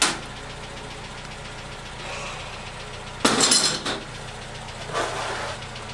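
Toyota AE71 car fitted with AE86 BC coilovers and JDM brakes, engine idling low and steady while driving, with a sharp clunk and rattling burst midway and a softer swell near the end.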